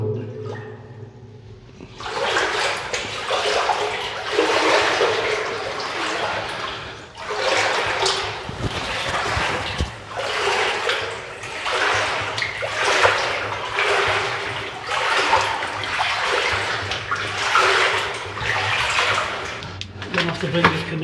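Water rushes and splashes through a flooded underground passage beneath a former airport control tower, a steady close wash that surges in repeated waves throughout.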